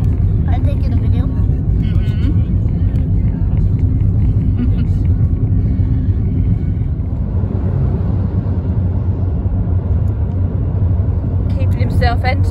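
A car carries a family on a road journey to an orangutan island near Ipoh, Malaysia, its engine and road rumble steady and loud throughout, with a voice chattering faintly over the cabin noise.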